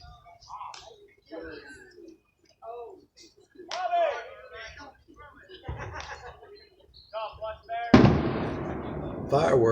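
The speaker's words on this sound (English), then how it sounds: "Fireworks off in the distance." Distant fireworks go off during an amateur baseball game: a sharp bang near the end trails into crackling, with a man's play-by-play commentary heard before and around it.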